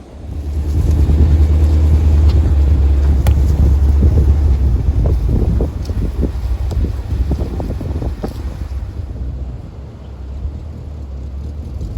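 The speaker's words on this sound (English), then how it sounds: "it's really windy out" Strong wind buffets a microphone outdoors on a rural property, a heavy low rumbling roar that is loud for the first half, then eases into gustier, uneven blowing with scattered knocks.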